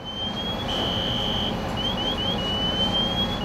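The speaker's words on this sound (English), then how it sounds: "the pass alarm that sounds when someone wearing an SCBA is motionless for more than a" MSA SCBA PASS alarm sounding, a shrill electronic tone that holds, then rises in several short chirping steps, over a loud steady background hum.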